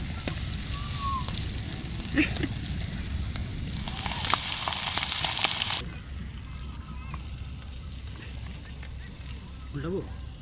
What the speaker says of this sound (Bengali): ওরা ওদিকে মাছটা ভাজছে